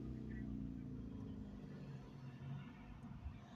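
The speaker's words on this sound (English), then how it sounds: "There's some noisy cars around Jacksonville" Low rumbling road noise from passing cars, a steady engine drone with swelling and fading whooshes at moderate distance, no talking.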